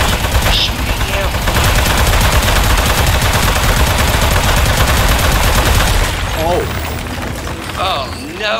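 Rapid, continuous gunfire from the video game Aperture Desk Job, dense loud bursts of shots that stop after about six seconds, followed by brief chirpy electronic blips and game sounds.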